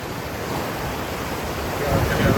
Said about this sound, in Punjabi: ਪਾਣੀ ਵੇਖੋ ਹੁਣ ਥੋੜੀ ਸਪੀਡ ਤੇ ਲੱਗਦੀ ਹੈ ਕਿੱਦਾਂ ਰੋਰਮਾ ਪਾਣੀ ਆ ਬਿਆਸ ਦਰਿਆ ਦਾ